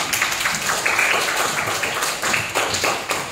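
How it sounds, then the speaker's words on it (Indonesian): Pupils in a classroom clap for their classmates on cleaning duty, a brisk, close burst of many small hands with uneven bursts and accents across a few seconds. "Tepuk tangan untuk yang piket"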